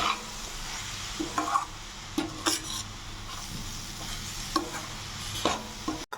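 Coconut burfi mixture with added milk being stirred in a pan: a steady soft scraping and sizzle, with a few louder spoon scrapes spaced through the stirring and no voices.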